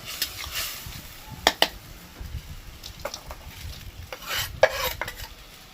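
Katla fish pieces being mixed with spices and a little water, soft wet stirring squelches with a few sharp utensil clinks against the bowl, close and fairly quiet.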